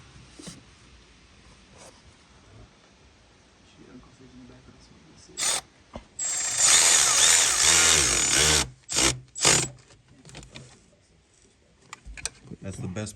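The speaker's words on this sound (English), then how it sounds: "That's the best part of that electric ratchet, is you can tighten it down and then you can go by hand." A Milwaukee long-neck 1/4-inch drive electric ratchet tightens bolts on a Porsche 911 Turbo 997.2 intake plenum, with one sustained whirring run of a couple of seconds and several short bursts, close up, between stretches of quiet garage noise.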